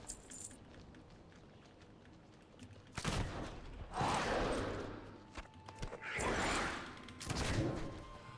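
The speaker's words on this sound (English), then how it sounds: "I love shooting the pistol mid-grappling hook" Pistol shots fired while swinging on a grappling hook in Goldbound: a quiet run of sharp shots set among whooshing movement, with rhythmic swells of motion noise.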